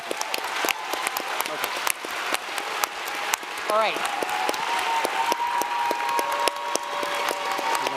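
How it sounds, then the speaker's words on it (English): Audience applause at a live business-pitch panel event, steady clapping from a crowd filling the room throughout, with someone briefly speaking over it. "So give a round of applause to."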